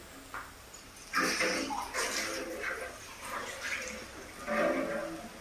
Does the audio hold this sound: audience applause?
no